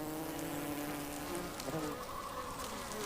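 Japanese honeybees buzz steadily inside their hive, a dense, continuous insect drone with no break across the whole stretch.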